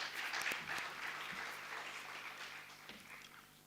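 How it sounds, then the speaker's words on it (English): Audience applause after a presentation at a university postgraduate research day, a steady wash of clapping that slowly fades over a few seconds, heard alone without talk. "Can we give her another round of applause, please?"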